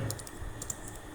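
A brief burst of typing on a computer keyboard, a handful of light clicks spread over about a second, close and quiet over soft background noise.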